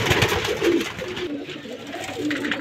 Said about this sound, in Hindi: ये सारे कबूतर हैं, सारे अच्छे कलरफुल रंगीन कबूतर हैं दोस्तों सारे के सारे